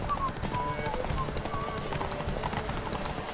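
Horse hooves clip-clopping at a steady trot in The Witcher 3, close and rhythmic, with someone talking over them.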